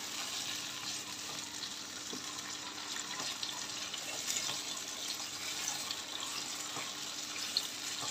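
Goan fish curry masala with green chili and coconut cooks over a full gas flame, giving a soft continuous sizzle and bubbling, faint and steady throughout.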